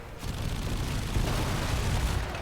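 Sustained heavy gunfire in a Warframe boss fight against the Profit-Taker, a dense continuous barrage of booming shots and rumbling impacts with no clear gaps.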